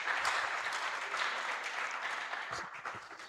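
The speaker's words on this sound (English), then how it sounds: "So a round of applause for CFI Services." An audience at a civil engineering student conference applauds a sponsor, producing a steady wash of clapping from many hands at moderate distance, which holds evenly throughout and starts to thin slightly near the end.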